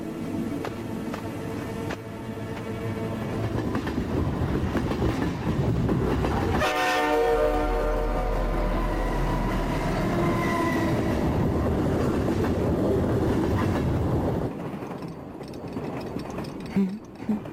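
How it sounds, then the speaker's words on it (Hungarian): A train running, with a horn sounding and rhythmic clickety-clack of railcars rolling past close by, loud and sustained before easing off toward the end. "Megy a vonat."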